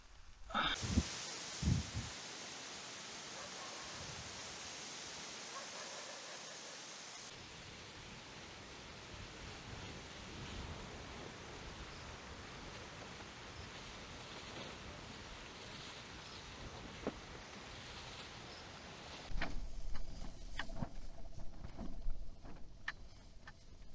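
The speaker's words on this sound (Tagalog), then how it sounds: "Ang lakas po ng ulan." Heavy rain pours during a stormy solo motorcycle overnight camping trip, a steady, dense hiss of drops that runs the whole time, briefly louder and rougher near the start and again toward the end.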